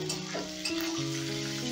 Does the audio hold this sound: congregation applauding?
no